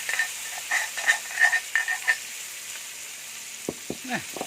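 Chili peppers stir-fried in pork lard, hissing and sizzling in a hot pan with bursts of crackle and a few sharp scraping stirs toward the end.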